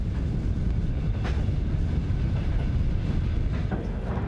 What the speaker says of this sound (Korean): 드디어 열차는 블라디보스토크를 떠나 모스크바를 향해 출발하고